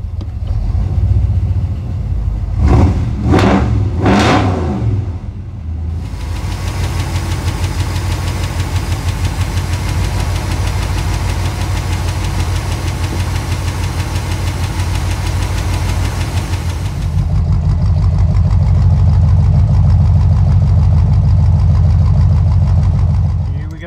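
Holden HZ GTS engine, still a bit cold, blipped with a few sharp revs near the start, then running with a loud rough idle and settling into a heavier, louder rumble later.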